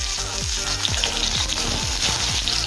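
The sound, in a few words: mango pieces frying in hot mustard oil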